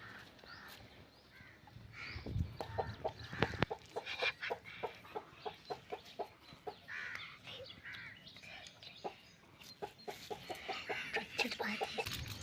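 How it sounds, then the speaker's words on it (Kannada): Chickens cluck in quick, repeated bursts nearby, with rustling and other bird calls in the background, fairly quiet overall. "ಅಲ್ಲಿ ಕೋಳಿ ಐತೆ"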